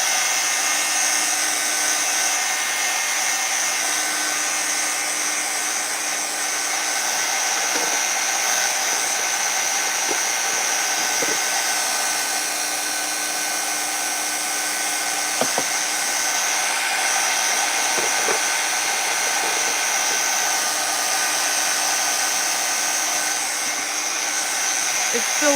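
A hair dryer blows steadily on a painted upcycled can, a constant loud whine and rush of air close by that holds for the whole stretch, with a few faint clicks and knocks underneath.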